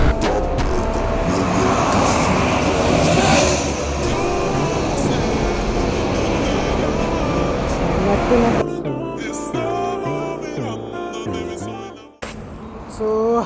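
Hero Xtreme 125R motorcycles speed along an expressway with a continuous loud rush of engine and wind, which cuts out near the end into quieter background.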